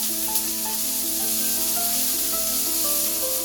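Onions sizzle steadily in a hot pan, a continuous close, bright frying hiss that holds even and unbroken throughout, with faint tonal sounds in the background.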